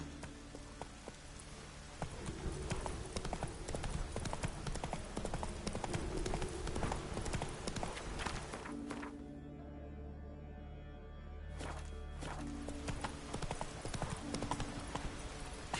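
Roach the horse trots in The Witcher 3, with a steady, even clip-clop of hooves close by, a brief lull midway, and the rhythm then resuming.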